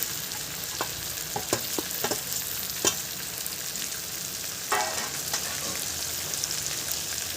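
Crabs frying in a pan with mixed vegetables give off a steady, close sizzle, broken by several sharp scrapes and clinks as they are stirred.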